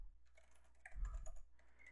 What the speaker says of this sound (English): I have a hard time talking and typing at the same time